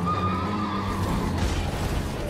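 A horse in the Elden Ring video game neighs during a mounted fight, a drawn-out whinny over dense, constant game noise, close and loud with no talk.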